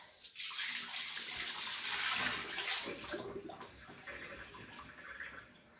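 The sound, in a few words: water being dumped out of a pot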